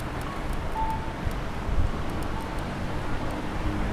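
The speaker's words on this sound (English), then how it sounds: "oh man, it is starting to get quite windy" Strong gusty wind buffets the microphone during a city bike ride in Nagoya, Japan, ahead of an approaching typhoon, a constant low rumble with faint traffic in the background and no speech.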